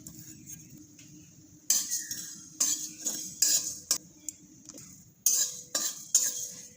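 Whole cinnamon, black peppercorns and cardamom dry roasting in a dry kadai, with bursts of scraping and metallic clinks as the spices are stirred, broken by quieter stretches between the strokes.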